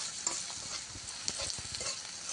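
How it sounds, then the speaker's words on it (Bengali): Spices being stirred in a frying pan for moringa leaf fry, with a steady sizzle under soft scraping strokes of the spoon, fairly quiet and close. "এবার ভালো করে নেড়ে চেড়ে নিচ্ছি।"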